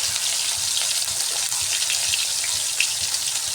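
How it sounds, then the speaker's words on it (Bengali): Dried fish with a little turmeric frying in hot oil, a loud, dense, continuous crackling sizzle heard up close with no voices. "শুকনো মাছটাকে ভেজে নিচ্ছি।"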